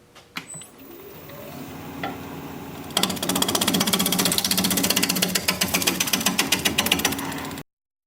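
Wood lathe turning a tenon on a spindle blank for a chuck: after a few sharp knocks, a loud, steady whirring drone with rapid repeated ticking and scraping continues, ending abruptly.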